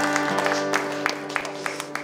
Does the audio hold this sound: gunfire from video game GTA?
no